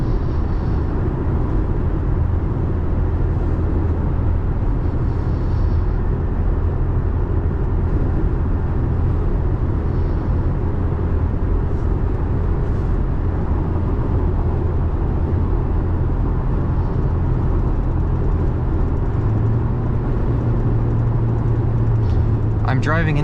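A 3rd gen Toyota Tacoma with a ValleyRunner tune cruises on a highway into a strong headwind, producing a constant loud drone of road, wind and engine noise from inside the cab, with a rise in engine pitch near the end.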